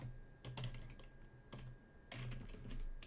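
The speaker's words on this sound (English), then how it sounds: "let's actually finish typing the command" Keystrokes on a computer keyboard while a command is typed during an R coding session, a steady patter of clicks with a few louder bursts, fairly close and alone.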